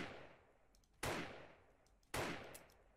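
Two loud marksman rifle shots in the video game 7 Days to Die, about a second apart, each a sharp crack with a decaying tail over faint background game ambience.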